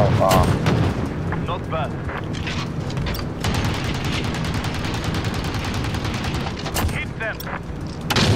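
Heavy, continuous gunship fire from a care-package killstreak in a shooter video game, rapid booming bursts rolling on without pause while a player speaks briefly over the barrage.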